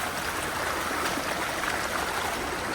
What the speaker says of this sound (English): Track's a bit of a creek, literally.